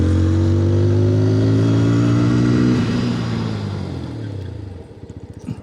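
A 2022 TVS Apache RTR 160 4V BT Edition motorcycle revs hard with a loud, rising engine note for about three seconds, then drops off and winds down as it brakes, ending in a sputtering idle.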